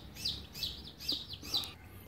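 Newly hatched chicks of a free-range village chicken cross, three days old, peep in four high, thin, repeated chirps over soft background noise, fairly quiet and close, with no talking.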